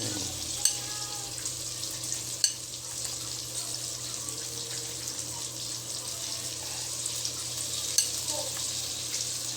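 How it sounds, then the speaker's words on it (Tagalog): Eggplant fries in a pan with a steady, close sizzle, broken by a few sharp clicks from a utensil. "Ilagay na sa kawali yung talong."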